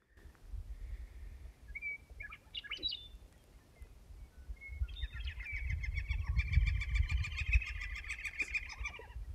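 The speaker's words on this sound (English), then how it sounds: "you hear the birds chirping?" Several birds, including bluebirds, chirp and trill outdoors by an off-grid cabin, scattered calls at first, then a busier, overlapping burst of song over a low rumble.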